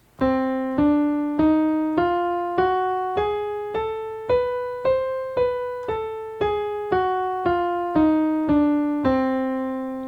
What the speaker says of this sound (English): That is the diminished scale.